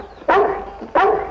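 Two loud, sharp barks from a small dog in a 1940 film scene, spaced about half a second apart, each with a brief tail, heard alone with no talk.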